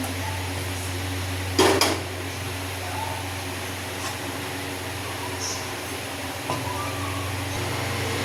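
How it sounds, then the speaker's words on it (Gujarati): A pan clanks down onto a lit gas stove in a home kitchen, one short metallic knock over the steady hiss and hum of the burner, followed later by a fainter tap. "એક પેન મૂકીશું।"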